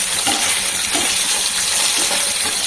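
Spiced pabda fish frying over high heat on a non-stick pan: a loud, close, continuous sizzle with faint spattering pops throughout.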